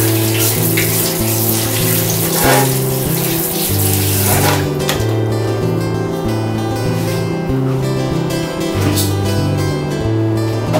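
Aloe vera leaves being washed under a running kitchen tap, a steady loud rush of water splashing across the whole stretch while a musical backing plays along underneath.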